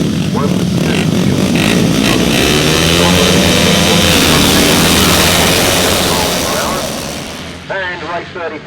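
Motorcycles race at a 2005 grasstrack meeting, their engines roaring loud and continuous across most of the clip before easing off near the end, with a voice talking over the din.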